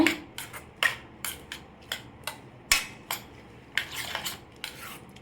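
A spoon clinks and knocks sharply against a bowl in quick, irregular strokes while egg paniyaram batter is mixed with salt, close and fairly quiet, with no talking.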